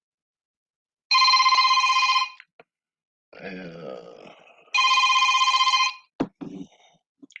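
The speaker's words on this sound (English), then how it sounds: "I'm sorry about my phone ringing." A telephone rings loudly in two long electronic bursts, with a short mumbled voice and shuffling between them.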